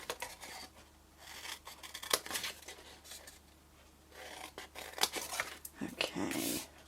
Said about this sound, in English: just cut straight up the other 3 score lines